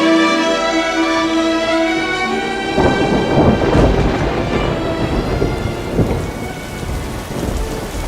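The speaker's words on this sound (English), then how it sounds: "Heavy rain is falling from a thundercloud on the slope of Masis." Heavy rain pours down steadily while thunder rolls and rumbles through the middle of the downpour, a dense, continuous storm wash with no voices.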